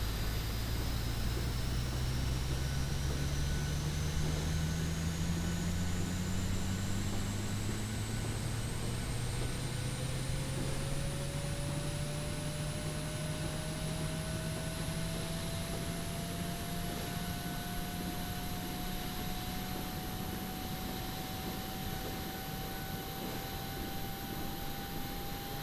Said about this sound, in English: Pretty good on the APU there. Definitely sounds good.